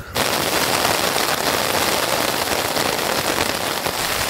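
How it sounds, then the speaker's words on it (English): Heavy rain drums steadily on a tent at a coastal campsite in Cornwall, a dense, loud, continuous patter close overhead with no pauses and no one speaking. "Morning from a very rainy campsite. It's been raining all night."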